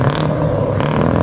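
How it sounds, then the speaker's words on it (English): A Scania 143 truck's V8 engine revs up close, a loud, throaty rumble with a brief rise in pitch over about a second. "The mother of all Scania engines."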